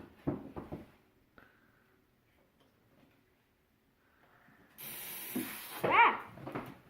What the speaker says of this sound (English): spray it all over the bottom of the pan